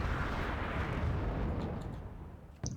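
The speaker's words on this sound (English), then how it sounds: "These mortars of mine are just tickling these vehicles." Mortar fire in the video game Wargame Red Dragon rumbles out as a dense, heavy barrage that gradually fades. A sharp crack follows near the end.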